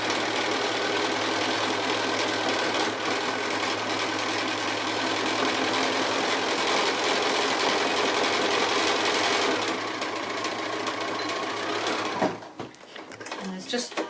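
A sewing machine runs steadily while zigzag stitching over the edge of fabric for a glasses case, a continuous close mechanical whir lasting about twelve seconds before stopping.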